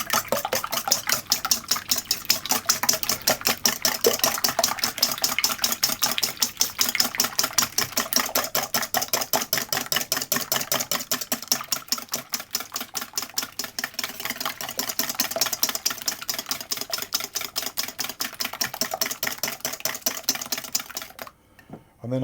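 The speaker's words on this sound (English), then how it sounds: "I'm going to whisk my eggs together" Eggs whisked together in a bowl for lemon curd, a fast, even rhythm of close metallic clicking and beating that runs steadily for about twenty seconds before stopping abruptly.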